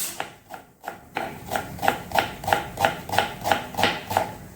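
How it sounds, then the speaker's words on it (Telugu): A knife slices onions thinly on a board in an even, rapid rhythm of about three crisp taps per second, close and moderately loud, with no speech. "ఉల్లిపాయలన్నీ ఇలా కట్ చేసుకున్నాము"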